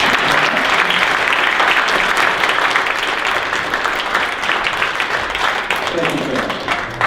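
An audience at a magic show applauds a volunteer, a dense, continuous wash of clapping that holds steady and loud throughout.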